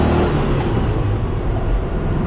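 A Porsche 356 pulls away after the shift from first gear, giving a loud, close, steady engine drone with no talking.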